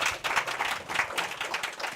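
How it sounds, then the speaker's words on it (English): Audience clapping at a community media release event, a brief burst of individual claps close by, uneven and moderately loud. "Yeah, you can clap."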